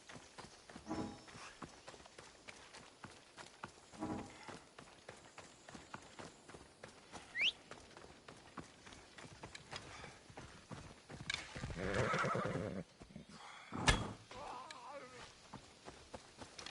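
A horse galloping in Assassin's Creed Odyssey, with rhythmic hoofbeats and scattered thuds throughout, quiet and at mid distance, plus a louder rush and a short neigh-like cry near the end.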